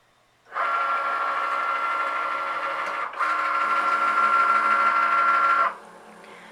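A Cricut Maker cutting machine, loaded with a Dollar Tree spatula for engraving, gives off a steady mechanical whirring hum for about five seconds. The hum dips once briefly, then resumes and stops, with no talking over it.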